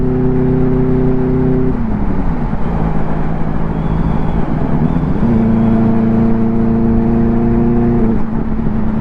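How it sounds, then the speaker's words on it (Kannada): A motorcycle fitted with an IXIL X55 exhaust roars on a rainy forest-reserve road, a steady throaty drone that dips in pitch around two seconds, then climbs back and holds, loud and close with no voices. "ಮೊದಲೇ ನಮ್ಮ ಬೈಕ್ ಅರ್ಚ್ಕೊಳ್ತಾ ಇದೆ."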